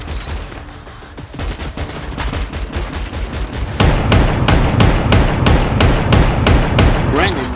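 Rapid automatic gunfire in Call of Duty Mobile, a continuous stream of punchy shots that grows louder and denser partway through, close and prominent, with a voice occasionally under it.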